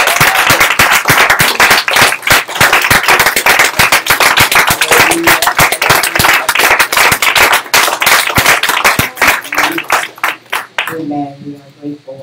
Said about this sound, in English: Clap your hands for the Father.